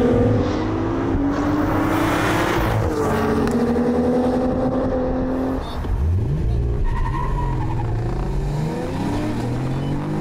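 A 2022 Cadillac CT4-V Blackwing with a manual gearbox launching hard from a standstill, its engine roaring loud and close as revs climb, drop briefly at a gear change near the middle, then rise again through the next gear.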